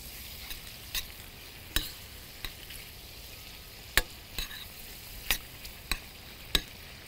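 Calamari and garlic fry quietly in a pan as a spoon stirs them. A faint continuous sizzle carries sharp, irregular clinks and scrapes of the spoon against the pan, close up, with no talk.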